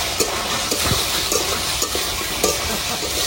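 Potatoes and onions fry in a pan on a village kitchen stove, a steady close sizzle broken by scraping stirs of a spatula at irregular intervals, with no talking.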